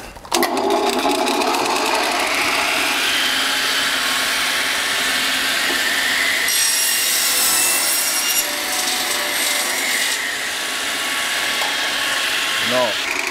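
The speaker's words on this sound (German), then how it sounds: "Säge anschmeißen und dann absägen." A power saw grinds steadily through a wooden board for several seconds, loud and close, with a harsh rasping whine that barely changes.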